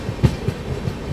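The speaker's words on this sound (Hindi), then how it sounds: "ट्रेन अपनी निकल चुकी है फतेहपुर रेलवे स्टेशन से।" Lichchavi Express pulling out of Fatehpur railway station in India, heard from on board as a steady low rumble with a few rhythmic clacks of wheels over rail joints.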